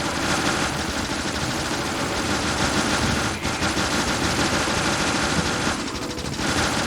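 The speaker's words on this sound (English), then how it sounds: "That's a lot of shooting." Defender robots fire nonstop in the factory-building game Factorio, a dense rapid rattle of gunfire that runs steadily throughout with only brief dips, loud and alone with no talking.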